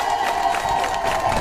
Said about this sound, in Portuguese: Uma salva de palmas para Alto Moloco.